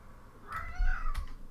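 A domestic cat meows once, a clear drawn-out call close to the microphone, rising and falling in pitch against a quiet room.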